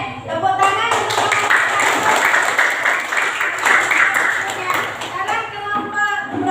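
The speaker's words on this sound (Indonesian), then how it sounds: "Tepuk tangan untuk" A classroom of children applauds after a group presentation, a steady patter of clapping that runs throughout, mixed with children's voices talking over it.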